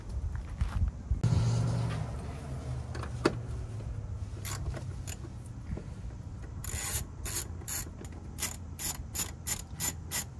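A ratchet wrench backs out 10 mm bolts from a brake heat shield under a Nissan 300ZX, with rapid clicking bursts, a brief rattling spin and scraping metal, close up.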